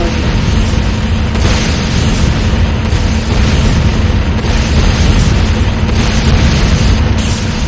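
A structure blows up in the Command & Conquer Renegade video game, giving a loud, dense, continuous rumbling blast that roars without pause for several seconds.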